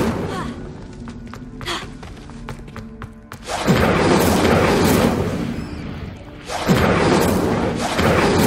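Incendio fire spell blasts in Hogwarts Legacy, two loud whooshing bursts of flame erupting one after another over a busy game backdrop, each swelling in quickly and rolling on before tapering off.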